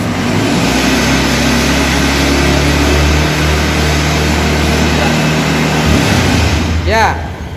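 A car engine is revved with the throttle held open during a fuel pump pressure test, giving a loud sustained roar close by that rises and then drops away near the end.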